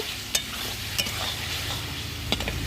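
Potatoes being stir-fried in a cooked-down spice masala for a village-style duck egg curry, with steady sizzling and a few sharp spoon scrapes against the pan.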